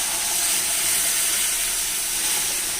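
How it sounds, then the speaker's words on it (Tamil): Water poured into hot roasted semolina in a pan for jaggery kesari, giving a loud, steady hiss and sizzle with steam that carries on unbroken throughout. "ரெண்டரை டம்ளர் தண்ணி ஊற்றிக்கலாம்"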